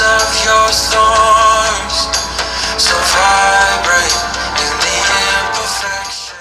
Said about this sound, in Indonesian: Dan untuk speakernya sayang banget masih mono ya.